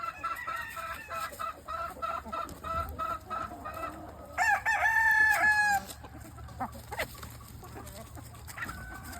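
Chickens cluck in a rhythmic series in a midwinter farmyard, then a rooster lets out one loud crow partway through, followed by scattered softer clucks and faint background noise.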